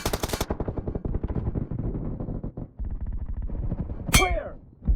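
Automatic fire from a silenced QBZ rifle in PUBG Mobile, a long fast burst of muffled rounds, a brief pause, then more shots and a sharp ringing metallic sound near the end.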